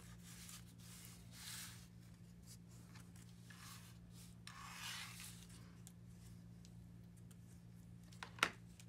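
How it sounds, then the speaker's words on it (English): Steady soft rubbing strokes as the edges of a handmade piece are burnished, several close, dry scraping passes with a faint background hum and a sharp tick near the end. "Now I'm going to burnish these sides in."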